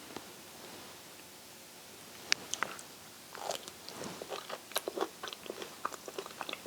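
Dry, very ripe skin of a Madeira Island Black fig is bitten and chewed up close, giving a string of small crisp crunches that start after a quiet pause and continue in irregular bursts.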